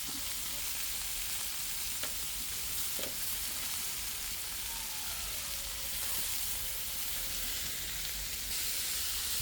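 Shrimp sizzle in a pan for ginataang gulay, a constant close frying hiss with occasional stirring scrapes and clinks throughout, no voices.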